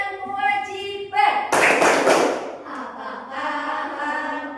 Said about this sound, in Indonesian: Tepuk hak dan kewajiban.